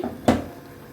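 A single short clatter as the lid comes off a pot of bitter gourd, potato and koi fish chorchori, close and fairly soft, fading into a quiet room hum.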